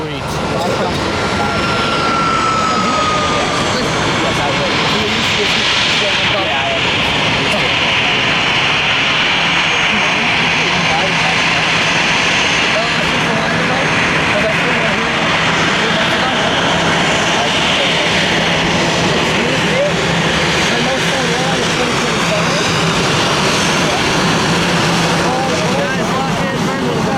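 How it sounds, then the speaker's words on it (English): A Virgin Atlantic Airbus A350-1000 takes off bound for London Heathrow, its jet engines roaring loud and steady throughout, a continuous broad rumble with no pause. "Virgin A350 1000 to London Heathrow."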